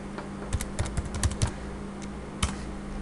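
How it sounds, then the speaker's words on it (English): Fingers type on a computer keyboard, a few close, crisp key clicks spaced irregularly, then a short pause and one more tap, with no voices. "I'm going to type it in."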